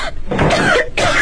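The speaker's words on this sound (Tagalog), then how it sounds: "Inubo ka?" A short, loud cough bursts out, pauses, then returns as a second harsh cough with throat-clearing quality, close and alone with no talk over it.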